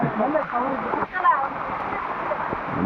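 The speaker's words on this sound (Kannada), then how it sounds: "ನೀರಿನ ಜರಿ ಹಿಂಗೆ ಹರಿತಿದೆ" A rain-fed stream of water rushes along a trekking trail on Tadiandamol in Coorg during heavy rain, making a continuous broad roar close by while someone talks over it.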